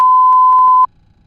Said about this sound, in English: You can press the Master Caution Reset button in front of you to silence the alarms.